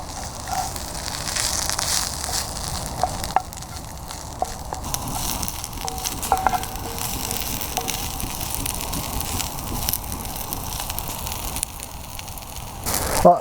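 Hogweed shoots frying in a pan, giving a steady, close crackling sizzle that holds evenly throughout with a few sharper pops and no voices.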